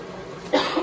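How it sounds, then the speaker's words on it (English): A single harsh cough from someone with a cold bursts out close by, followed by a shorter second cough, with no talking. "Excuse the coughing, guys."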